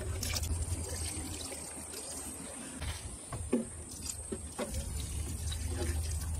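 Diluted liquid fertilizer trickles and splashes onto the soil around tomato plants outdoors, a close, steady pouring stream with small bursts, with no talking.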